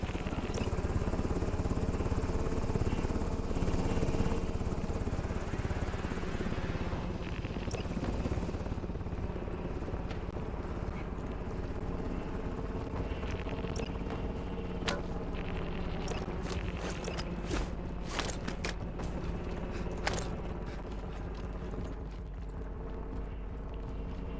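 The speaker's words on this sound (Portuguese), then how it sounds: "Helicóptero de extração voltando pra base." Extraction helicopter flying back to base in the game Warzone, a steady loud rotor and engine drone running throughout with scattered sharp game effects over it.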